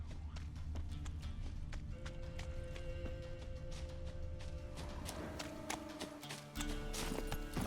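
Roach, the horse in The Witcher 3: Wild Hunt, gallops with a steady, rapid clip-clop of hooves, close and prominent over the soft game ambience.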